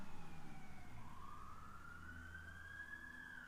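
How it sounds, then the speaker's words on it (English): Emergency vehicle sirens wail in the distance, one rising and falling tone sweeping up as it passes, faint and steady with no nearby voices. "is it one or two sirens?"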